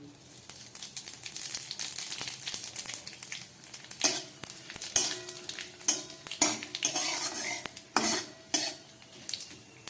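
Kalo jeere, radhuni, white cumin and dried red chillies fry in hot oil for tempering, a soft sizzle overlaid by repeated sharp metal clinks of a spoon stirring against the pan.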